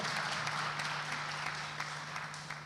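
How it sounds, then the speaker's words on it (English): Conference audience applause, a dense steady patter of many hands clapping at a moderate distance, fading slightly toward the end, with a faint low hum underneath. "so please give applause"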